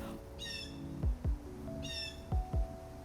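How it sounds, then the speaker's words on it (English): A blue jay gives two harsh, raspy squawking calls near a backyard bird feeder, each followed by a pair of low thumps, fairly close against a quiet outdoor background. "Blue jay nearby. He's mad about something."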